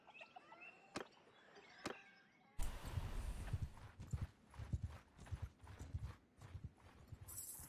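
Horse hooves clip-clopping at a gallop in a video game while riding from mountain bandits, a rapid rhythmic pounding that starts abruptly after a few sharp clicks and carries on steadily.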